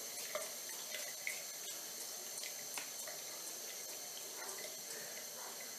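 Tap water running into a sink for face washing, a steady faint hiss of flowing water with small clicks and splashes of hands moving in the stream, no talking.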